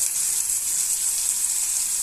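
Eggplant pieces frying in hot oil with salt and turmeric, a steady bright sizzle that stays even and close throughout, with no talking.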